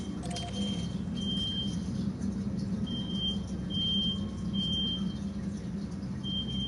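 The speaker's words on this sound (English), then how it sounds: "I don't know what that beeping is." Intermittent electronic beeping in a room, short high chirps repeating at irregular intervals over a low steady hum, faint and alone with no talk.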